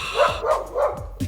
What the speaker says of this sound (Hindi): तभी एक कुत्ते के भौंकने की आवाज आई।